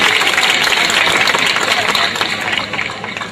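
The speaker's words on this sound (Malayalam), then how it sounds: "എല്ലാവരും കൈയടിച്ച് പ്രോത്സാഹിപ്പിക്കണം." An audience at a Mappila song stage show applauds, a dense, steady wash of hand claps that stays loud and even, then eases slightly toward the end.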